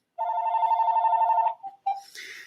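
A telephone rings once in a fast electronic trill lasting over a second, clear and close, followed by a couple of short tones and the start of a voice.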